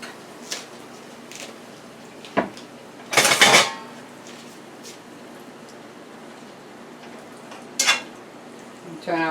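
Pork chops dropped into hot oil in a pan give a steady close sizzle, broken by a few sharp clanks of metal utensils against the cookware and one louder scrape partway through.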